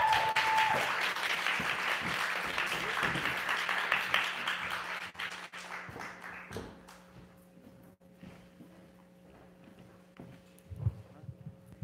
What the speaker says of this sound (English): Y'all give her another round of applause, please.